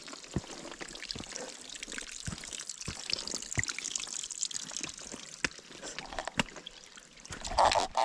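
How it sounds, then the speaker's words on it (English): Water trickles and pours in a small stream or river, a continuous close babble with scattered splashy drips throughout and a brief louder gush near the end. "There's a stream or river."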